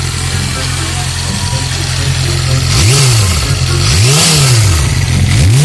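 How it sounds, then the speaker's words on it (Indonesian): A Yamaha R6 motorcycle with its stock exhaust idles loudly up close, then is revved three times, each throttle blip swelling and dropping back, with no voices over it. "Kalau Yamaha R6 pakai knalpot standarnya, suaranya kayak Goldwing ya."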